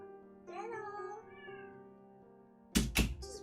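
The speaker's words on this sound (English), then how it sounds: "Just meowing for attention." A cat meows insistently for attention indoors, a drawn-out, wavering meow followed by a couple of sharp thumps or knocks, close to the microphone with no talk over it.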